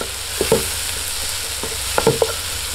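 A spoon stirs tomato masala frying in a pan for chicken pollichathu, with a steady sizzle underneath and a few scraping knocks against the pan, close up and with no voices.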